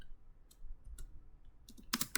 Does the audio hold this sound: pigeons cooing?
no